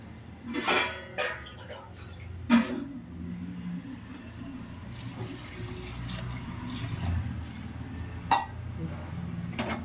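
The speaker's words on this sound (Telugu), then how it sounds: "కొన్ని వాటర్ పోసుకొని" Water is poured into a pot of toor dal with turmeric. A few splashes and clinks come early, then a softer running sound settles under a background hum.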